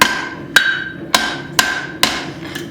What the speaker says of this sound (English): I'm going to do some forging,